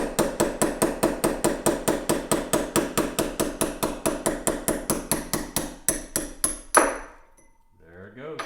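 Light hammer taps driving a bushing out of an MG TC generator with a tap, a quick steady run of about thirty metallic strikes, then a clunk as the part frees, followed by quiet handling noises.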